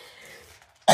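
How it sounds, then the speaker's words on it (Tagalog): One abrupt, loud cough lands at the end of a quiet bathroom moment, with only faint room hiss before it, close to the microphone. "Sorry, inuubo pa talaga ako ngayon guys."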